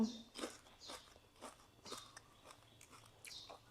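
Crisp, dry food is bitten and crunched up close while eating spicy Thai papaya salad with rice noodles, about seven sharp crunches at an uneven pace over quiet background.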